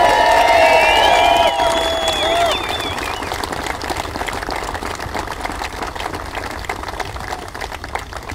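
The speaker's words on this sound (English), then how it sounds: "everybody needs to give a big round of applause for the crew that put this" A large outdoor crowd at the christening ceremony for Union Pacific's Big Boy No. 4014 steam locomotive applauds and cheers the restoration crew, with sustained clapping and some whistles early before the noise settles.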